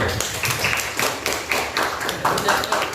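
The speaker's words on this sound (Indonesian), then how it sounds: "Kasih tepuk tangan dulu." Listeners in an Islamic religious education class clap after a student group finishes its presentation, a brief, dense patter of claps mixed with room noise and chatter.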